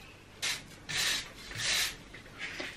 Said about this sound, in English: I'm gonna just rub over with a brush now, because then it'll just loosen any bits that have stuck to the bricks.